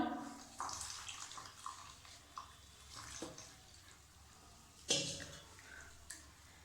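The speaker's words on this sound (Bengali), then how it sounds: "পরিমাণ মতো জল দিলাম" Water poured into a semolina batter seasoned with nigella seeds and salt for savory semolina pitha: a steady, close hiss of running liquid with soft splashes and a sharper clink near the end.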